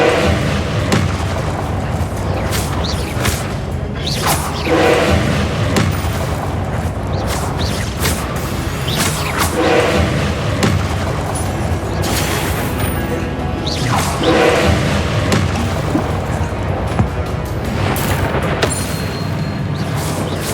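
Confringo and Incendio spells cast in Hogwarts Legacy, repeated booming fiery blasts and crashing impacts at regular intervals, loud and close over a dense rumbling backdrop.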